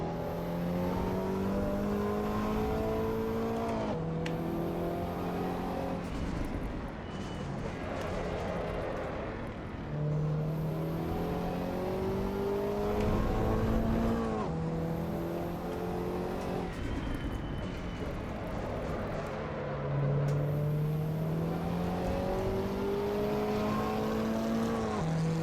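Race car engine in the Assetto Corsa EVO racing game revving hard through repeated upshifts, its rising whine climbing, dropping and climbing again in cycles, loud and continuous with no talk over it.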